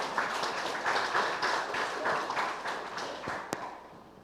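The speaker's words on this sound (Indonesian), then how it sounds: "Seluruh rekan-rekan GM, boleh berikan sekali lagi tepuk tangan yang sangat meriah." A hotel conference audience at a hospitality short course applauds, a steady, fairly faint wash of many hands clapping, with one sharper knock near the end.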